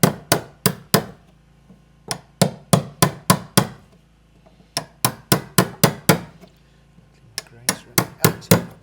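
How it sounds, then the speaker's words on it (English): Hammer blows on a chisel chipping an edge off, off-grid in Africa; a steady run of sharp, loud, close strikes in quick bursts of four to six, separated by brief pauses. "Just chisel a little bit of this edge off here."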